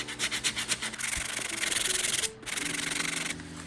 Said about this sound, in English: It will take a minute to sand, but it's well worth it.